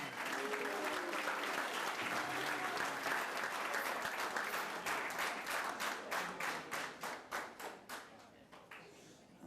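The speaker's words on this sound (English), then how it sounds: "Big round of applause for Mr." A crowd applauds Mr. Haney at a high school fall sports banquet, loud and steady for several seconds, then thinning into scattered individual claps as it dies away, with some voices murmuring underneath.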